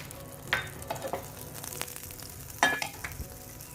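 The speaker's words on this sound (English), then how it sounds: "Keep one tawa on the stove and add some butter into this." Butter sizzling on a hot tawa on the stove, a steady low frying hiss broken by two sharp clinks of a utensil.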